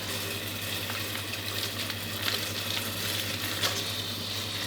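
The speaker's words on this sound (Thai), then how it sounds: "ผัดพริกแกงกับหัวกะทิที่เราผัด้นแตกมันแล้วครับ" Red curry paste stir-fried with coconut cream in a pan gives a steady, close sizzle and crackle, with faint scraping of the spatula now and then.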